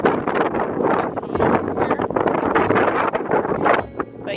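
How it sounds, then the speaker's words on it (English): Wind buffets an outdoor microphone at a new-construction home site with freshly laid sod and irrigation drip lines, a steady loud broadband rumble with gusty swells throughout and no talk over it. "Sorry for the wind."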